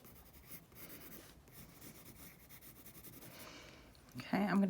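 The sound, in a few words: eraser rubbing on a pencil lip drawing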